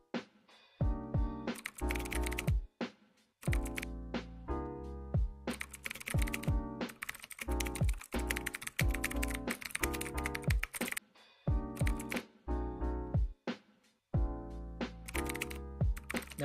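Continuous computer keyboard typing, dense rapid keystrokes in long runs with brief pauses between, close and prominent, no talking over it.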